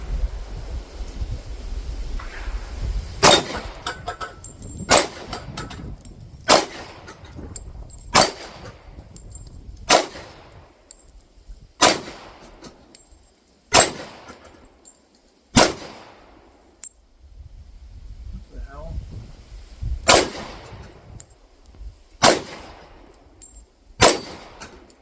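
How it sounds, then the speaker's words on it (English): Twelve rounds of .40 S&W carry ammo are fired from a SIG P229 pistol outdoors, sharp loud reports spaced a second or two apart with short ringing tails and wind noise between shots. "So this is 40 Smith & Wesson out of the P229."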